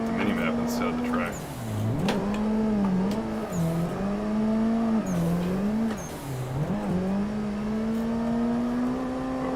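A race car in the Assetto Corsa driving game drifts around a track, its engine revving up and down through smooth, rising and falling pitch sweeps, loud and continuous, with a voice talking over it.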